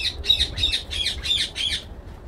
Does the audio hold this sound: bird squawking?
yes